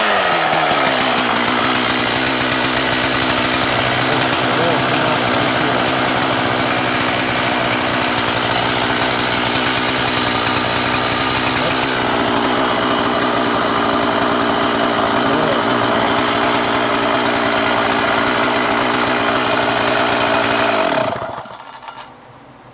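A Stihl 044 chainsaw engine runs at a loud, steady high-revving whine close by for about twenty seconds, then cuts off abruptly near the end.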